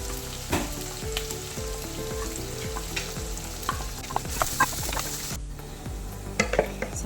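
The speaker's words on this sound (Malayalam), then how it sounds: "നന്നായിട്ട് വഴറ്റിയെടുക്കാം." Three chopped small onions and three green chillies sauté in a pan for an egg roast, making a continuous close sizzle with repeated spatula scrapes and clinks against the pan and no talk.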